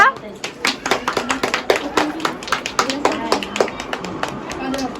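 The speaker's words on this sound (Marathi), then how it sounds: "हे टाळ्या वाजवा" Hand clapping at a family naming-ceremony gathering, a steady run of sharp, close claps repeating quickly over several seconds while voices chatter underneath.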